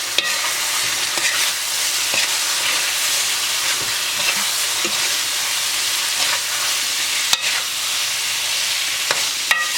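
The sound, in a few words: stirring spices into okra (bhindi do pyaza) in a pan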